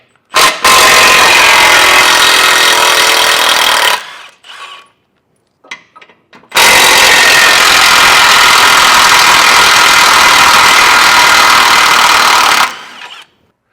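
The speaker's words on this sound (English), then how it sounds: "Now we'll take that same 15mm socket and remove our tow hooks." Power tool running a 15mm socket to remove the tow hooks from a 2019 Ford Ranger, with two long loud bursts of steady whirring separated by a short pause and a few faint clicks.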